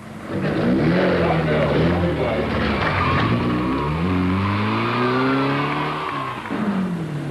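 Rally car engines roar through a forest stage of the 1978 Southern Cross Rally, a loud sustained revving with rising and falling pitch as the cars accelerate, sounding close and continuous for several seconds.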